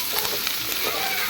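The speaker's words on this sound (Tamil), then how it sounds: "வெங்காயத்தை போட்டு நல்லா வதக்க வேண்டும்" Onions sauté in a pan with a brief, steady sizzle and soft crackle, close and fairly loud, with no voices.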